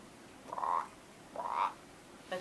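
A person imitates a frog croaking at preschool circle time, with two drawn-out nasal croaks about a second apart and the start of a third at the end, clear and close with no other talk.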